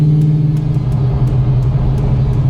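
A 1968 Chevy Camaro V8 idles loud and close through a shortened Stainless Brothers muffler, a steady deep rumble with a slightly lumpy, aggressive throb and no voices.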